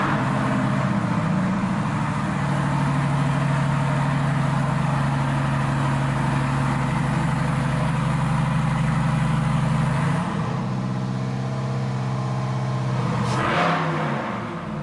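A 2020 Chevrolet C8 Corvette fitted with a Holley Dominator port-injection setup, carbon PTR intake and secondary fuel system runs loud and close with a steady throaty drone, its pitch shifting near the ten-second mark before a sharp rev burst toward the end.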